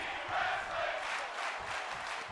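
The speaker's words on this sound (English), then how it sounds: "Tag team wrestling chants" Crowd noise from a wrestling arena in WWE 2K24, a steady wash of massed voices chanting and cheering throughout, fairly loud and continuous, with no one talking over it.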